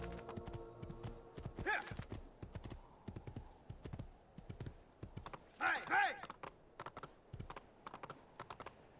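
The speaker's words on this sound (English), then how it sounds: "Oh, we got a horse." Horse hooves clip-clop in the Assassin's Creed 2 video game in a steady, moderately loud trotting rhythm, with a few brief louder bursts and other faint game sounds around it.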